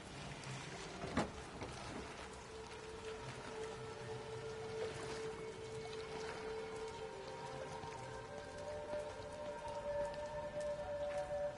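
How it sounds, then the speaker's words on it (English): Steady rain in the game Everybody's Gone to the Rapture, a continuous hiss of drops on surfaces with a sharp knock near the start and faint tonal hums running underneath, no voices. "It's raining quite a bit."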